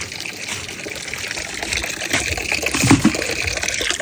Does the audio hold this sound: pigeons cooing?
no